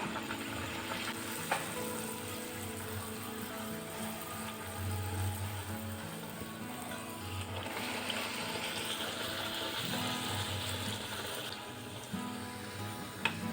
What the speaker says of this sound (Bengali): তেল গরম হয়ে গেছে এখন লুচিগুলো ভেজে তুলবো